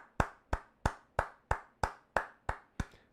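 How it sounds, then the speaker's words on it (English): Nine evenly spaced single hand claps from a clapping sound effect, sharp and fairly loud, each ringing out briefly before the next in a steady rhythm. "Can we get some claps in the comment section?"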